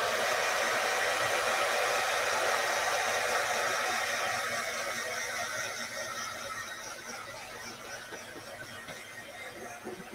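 A heat gun blows with a steady, loud airy roar that continues throughout, gradually softening a little toward the end.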